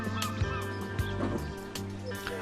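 Gulls calling at a nest in Tynemouth: repeated harsh, honking cries in quick bursts over a low background hum, fairly close and loud.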